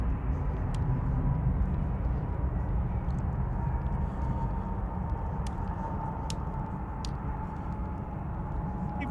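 A Boeing 737-800 jet, registration 9H-QEA, departs Manchester Airport for Brussels Charleroi in the evening, a steady broadband engine roar heard from a distance, with a few faint clicks over the constant rumble.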